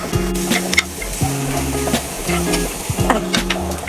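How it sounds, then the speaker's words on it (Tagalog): Carrots being stirred in a sizzling frying pan, a spatula scraping and clacking against the pan in repeated strokes over a steady close frying hiss. "Halo-halo lang natin hanggang lumambot ang ating carrots"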